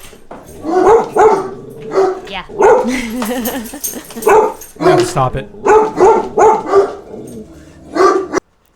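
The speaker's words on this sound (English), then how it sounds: "Is there a dog out there?" A dog barks outside in a burst of repeated barks and yips, close and loud, while people talk over it.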